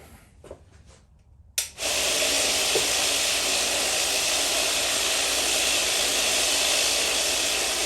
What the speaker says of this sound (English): So this is the noise it makes. It is loaded right now.